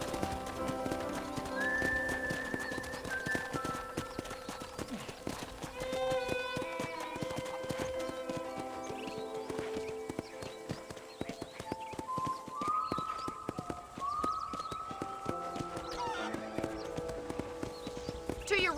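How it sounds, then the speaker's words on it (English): Rhythmic clip-clop of a horse's hooves at a steady pace with occasional neighing, mixed with tonal background music and some talking, in the video game Red Dead Redemption. "let's see if you can still ride a horse."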